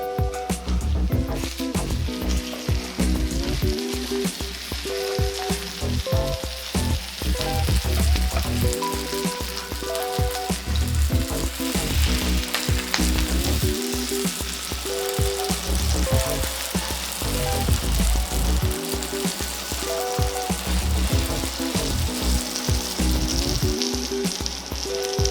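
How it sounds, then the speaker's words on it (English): Tofu fries in a hot pan, a loud continuous sizzle and crackle with steady popping throughout. "this first side has been cooking for about 10 minutes and it's a nice hard golden brown on the first side of the tofu"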